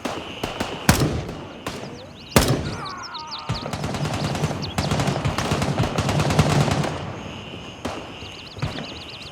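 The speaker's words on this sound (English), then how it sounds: "bullets hitting near you and distant gunfire coming from different directions" Gunfire in the military shooter Gray Zone Warfare: sharp single shots and a long rapid automatic burst crack out at close range, with quieter distant reports and ambient insect chirps between them.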